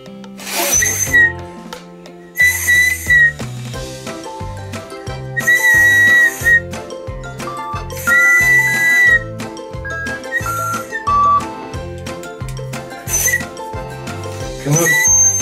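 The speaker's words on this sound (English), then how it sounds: "So, if you blow in the whistle, they hear it and do different things." Whistle tones from a Digi Penguins Living The Chill Life Igloo playset rise in short bursts over steady toy melody music. The bursts repeat several times and come through clear and fairly loud.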